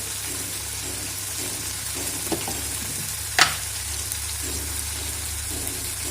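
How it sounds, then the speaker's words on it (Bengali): Spices sizzle and fry steadily in hot oil for a cabbage dhoka dalna, with a soft continuous crackle and one sharp clink of a spoon against the pan, no voices. "ভালোভাবে কষিয়ে নেব যতক্ষণ না তেল ছেড়ে যাবে"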